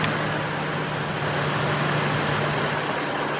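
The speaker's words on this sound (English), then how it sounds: "I'm going to attempt to start the car and see how it sounds" A 2003 Chevy Trailblazer engine idling steadily at close range after a new ignition coil install, a continuous low rumble with broadband noise and no voices.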